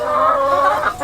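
Around thirty hens clucking inside an E-coop layer coop with rollaway nesting boxes, a close, steady chorus of overlapping murmuring clucks throughout.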